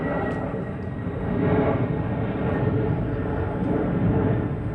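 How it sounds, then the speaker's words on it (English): An airplane passes overhead above a backyard lawn, a steady broadband engine roar that swells slightly midway and holds throughout, with no talk. "Another plane."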